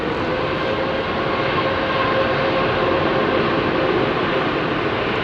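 An Airbus A350-1000 with Rolls-Royce Trent engines departs Heathrow runway 27R, a loud, steady, broadband jet roar that holds evenly throughout.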